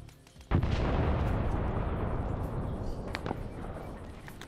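In the jungle shooter SOG on the Ground, a burst of RPD suppressing fire opens with a sharp loud crack, then a dense rumbling roll of shots and echoes that slowly fades.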